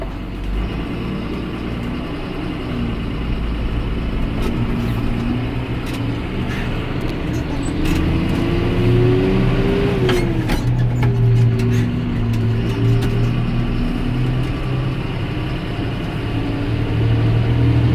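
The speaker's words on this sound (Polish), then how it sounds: "Nawet na ostatnim biegu i ostatnim półbiegu ciągnik jest bardzo dynamiczny." An unloaded John Deere 6930 Premium PowerQuad tractor drives in its top gear, its diesel engine a steady close drone that rises and falls slightly in pitch as it moves, with no voices.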